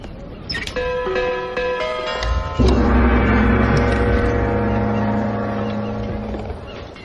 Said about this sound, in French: Veuillez tirer la cloche et attendre qu'on réponde.